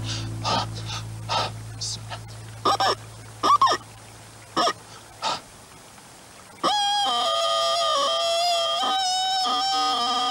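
A person imitates a duck with a run of short, breathy honking quacks in bursts, then a sustained nasal, buzzing call held for several seconds.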